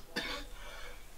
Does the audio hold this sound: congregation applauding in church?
no